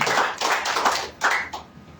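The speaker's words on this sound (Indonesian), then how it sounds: "Beri tepuk tangan yang meriah buat Tuhan ini." A church congregation claps in a short burst of applause, a few uneven waves of hand claps at moderate distance, with no talk over it.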